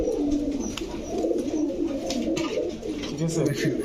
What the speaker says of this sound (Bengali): এটা হচ্ছে পাকিস্তানি ঝাঁক গলা একটা নর কবুতর